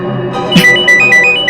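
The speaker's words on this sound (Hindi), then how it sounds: "ये डॉक्टर मानवी ने तो खुद ही फोन कर दिया।" A phone ringtone chirps in a short repeating melodic pattern over a busy background, loud and close.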